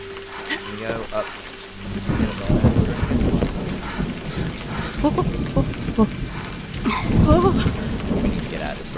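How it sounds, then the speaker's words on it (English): Rain pours steadily in a survival video game, a dense continuous wash under people talking, with low rumbles like thunder rolling in the background. "We need to get out of this rain, guys."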